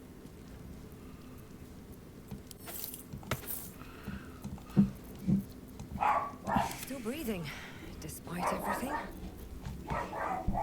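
Dog barking indoors during a Baldur's Gate 3 session, a few scattered barks at a moderate distance mixed with game sounds and someone talking over them.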